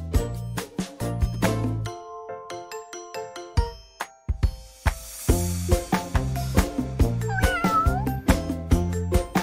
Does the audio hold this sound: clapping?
no